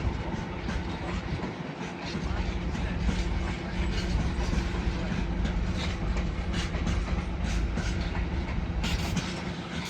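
A Class 701 electric train pulls out of Clapham Junction, its wheels clattering steadily and loudly over the rails throughout.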